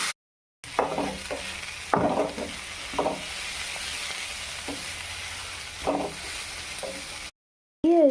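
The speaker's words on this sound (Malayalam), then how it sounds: "അതിനുശേഷം ഇത് മിക്സ് ചെയ്തുകൊണ്ടേയിരിക്കാം." Agathi leaves being stir-fried in a pan give a soft, steady sizzle broken by several scraping stirs of a spatula, heard close and fairly quiet, with brief silent gaps at the start and end.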